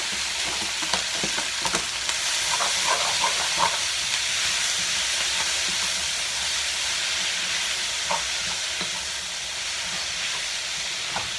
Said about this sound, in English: now we're going to fry the package stir fry